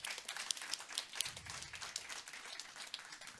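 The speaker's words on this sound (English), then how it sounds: "Please give them a round of applause for joining us." Soft, scattered clapping from a small audience at an academic panel session, uneven individual claps with a few sharper ones, fairly faint.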